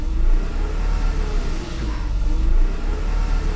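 A car engine revs briefly as the driver accelerates a little, the battery warning light staying on while it runs; a steady close mid-pitched drone rises and falls slightly across a few seconds with no talking.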